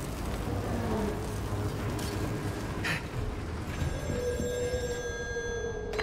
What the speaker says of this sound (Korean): 전화.